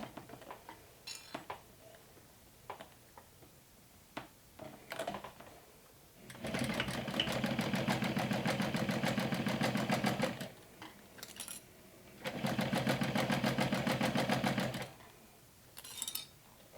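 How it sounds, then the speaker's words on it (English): A sewing machine stitches a half-inch backpack handle in two sustained, close runs of rapid mechanical clatter, separated by a short gap filled with faint handling clicks and taps. "So now I'm just sewing this."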